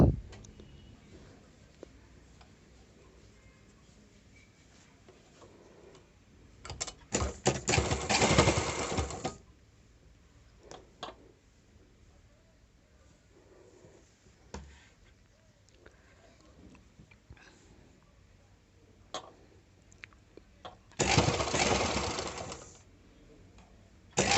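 A sewing machine stitches the shoulder seam of a blouse during an alteration, running in two loud bursts of about two and three seconds separated by quieter handling noise, with no one talking.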